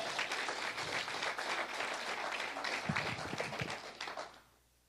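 A church congregation applauds steadily, dense clapping filling the room for about four seconds before it fades out.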